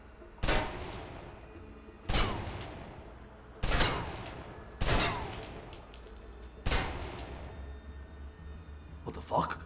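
Gunshots in the Alpha Protocol video game: five loud single shots spaced about one and a half seconds apart, each with a sharp crack and a decaying tail. No voices come through.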